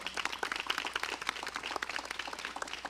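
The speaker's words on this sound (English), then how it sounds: "Please, a round of applause for her." Audience at a coding and tech solutions expo claps steadily for a student presenter, a moderate, fairly distant patter of many hands that stays even throughout.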